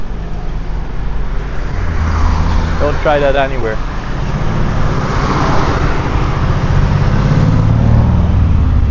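Street traffic outside a Mexican vehicle department, with cars stopping and passing. A continuous engine and road rumble carries a brief higher tonal burst partway through, while someone talks close by over it.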